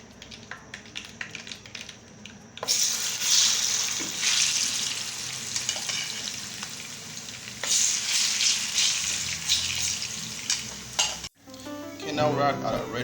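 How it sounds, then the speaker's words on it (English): Plantain and fish frying in hot oil make a loud, steady sizzle with stirring scrapes, briefly cut off before resuming near the end. "we'll fry our plantain and fish"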